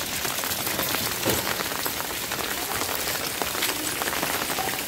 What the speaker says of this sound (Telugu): వర్షాలు ఒక 5 days వరకు పడతాయి.